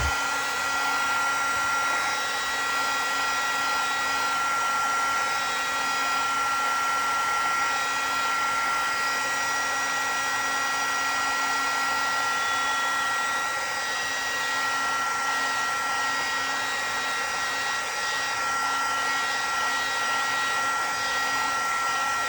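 A hair dryer blows close and loud onto a mixed media tag, a constant steady whine that stays unchanged and uninterrupted throughout.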